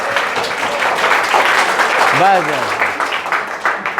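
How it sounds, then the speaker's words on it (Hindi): A class of students claps hands together in a steady patter of applause, heard close and under a teacher's speaking voice. "चलिए ताली बजाइए"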